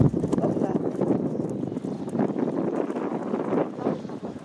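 A horse trots in a riding arena during dressage work, its hoofbeats soft and steady beneath wind noise on the microphone, with a faint voice in the background.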